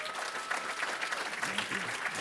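An audience claps for a panel on victims of communism, a brief burst of dense applause with a faint voice briefly audible.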